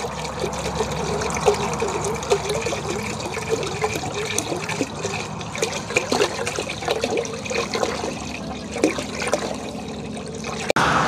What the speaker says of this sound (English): Get some water in the pot from early.